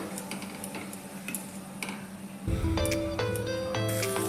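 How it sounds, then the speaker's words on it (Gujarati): Green peas and fenugreek leaves being sautéed and stirred in a pan for a Gujarati handvo: a faint clinking scrape at first, then a louder, steady pan-stirring clatter with metallic ringing tones takes over halfway through. "એટલે આપણા વટાણા પણ થોડા સતળાઈ જાય એનો કાચો ભાગ ના લાગે આપણને એટલે એને પણ આપણે સાતરી લઈશું"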